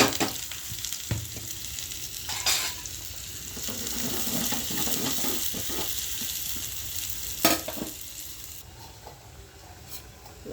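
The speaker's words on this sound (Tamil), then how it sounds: "இப்போ இந்த வெங்காயத்தை அதில் போட்டுக்கலாம்." Onions fry in a pan of hot oil for a spinach kootu. A steady, soft sizzle carries on throughout, with occasional stirring scrapes and light clinks close by.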